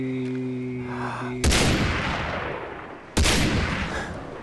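Two loud sniper rifle shots in a video game, each a sharp crack followed by a long rolling echo, spaced under two seconds apart after a faint tonal hum.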